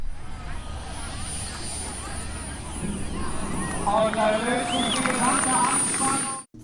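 A large radio-controlled airplane with real landing gear takes off smoothly like an airliner, its engine a steady drone under a commentator's talk, swelling slightly as it climbs before cutting off.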